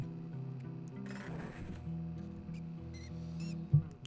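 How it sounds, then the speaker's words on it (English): Faint high squeaks of rats sound in the video game Bully, a few brief chirps scattered over a low ambient game drone, with a soft thump near the end. "I can hear rats and everything."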